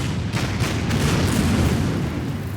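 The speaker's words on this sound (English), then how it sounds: "I'm going to go ahead and open fire" Continuous dense rumble of artillery and secondary gun fire in the naval strategy game Order of Battle, with a steady loud low-end roar and no clearly separated shots.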